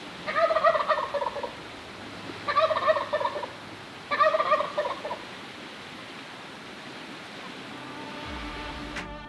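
A wild turkey tom gobbles three times in a row at a Washington State campsite, each rattling call spaced about two seconds apart, moderately distant over a steady outdoor hiss.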